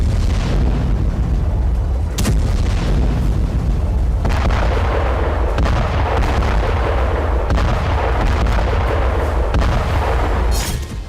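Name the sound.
artillery fire near Gaza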